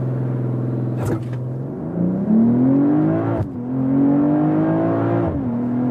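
A 2023 BMW M340i facelift doing a launch-control start: the engine revs hard and climbs through the gears, with brief dips at each shift, loud and close throughout and no speech.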